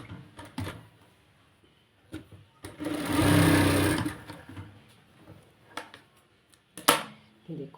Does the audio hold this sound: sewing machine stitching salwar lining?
yes